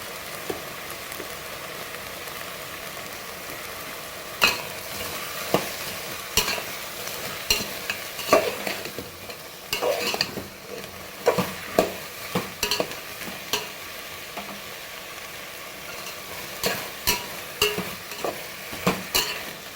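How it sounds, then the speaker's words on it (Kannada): A utensil scrapes and taps against a pan in an irregular stirring rhythm over a gentle sizzle of frying, mixing in salt and turmeric for avarekalu (hyacinth bean) sambar. "ಇದಕ್ಕೆ ಸ್ವಲ್ಪ ಉಪ್ಪು ಮತ್ತು ಅರಿಶಿನ ಸೇರಿಸ್ಕೊಂಡು ಮಿಕ್ಸ್ ಮಾಡಬೇಕು"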